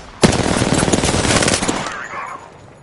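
Rapid automatic gunfire in a PS4 shooter game, a sharp opening crack followed by a sustained close burst of shots that tails off into quiet after about two seconds.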